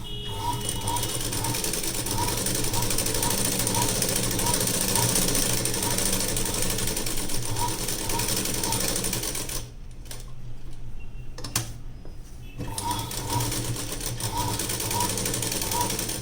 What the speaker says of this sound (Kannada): ಇಲ್ಲಿ ನಾನು ಮೈನ್ ಫ್ಯಾಬ್ರಿಕ್ಕು ಮತ್ತು ಲೈನಿಂಗ್ ನಾನೇನು ಕಟ್ ಮಾಡ್ಕೊಂಡಿದ್ದೀನೋ ಅದನ್ನು ಸಹ ಇಟ್ಟು ಸ್ಟಿಚಿಂಗನ್ನು ಮಾಡ್ತಾಯಿದ್ದೀನಿ